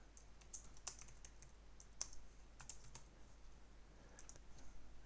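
Quiet, close computer keyboard typing as an email subject is entered, scattered irregular key clicks in short bursts with brief pauses, alone with no talking.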